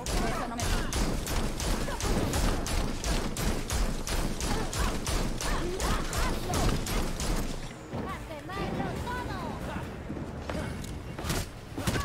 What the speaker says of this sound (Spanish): Oigo disparos